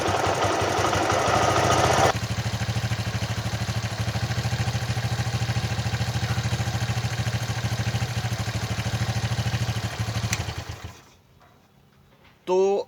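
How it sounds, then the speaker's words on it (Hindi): Bajaj CT-100 motorcycle engine, newly installed, idles steadily up close with clattering crank and timing chain noise, then shuts off and fades, followed by a brief handling sound. "आपको क्रैंक का साउंड सुनाई दे रहा होगा, टाइमिंग चेन का साउंड सुनाई दे रहा होगा।"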